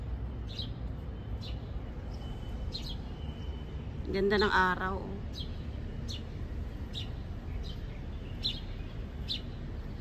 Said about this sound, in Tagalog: Yan, may mga ibon. Kasi nga umagang umaga pa.